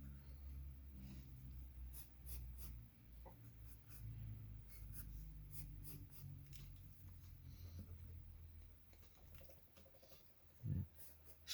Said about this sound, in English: I'm just drawing these stencils.